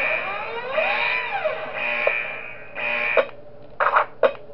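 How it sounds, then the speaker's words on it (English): Electronic alarm in the horror video game Five Nights At Wario's, a loud steady tone with warbling pitch bends, then choppy electronic bursts, with no talking. "Sound the alarm."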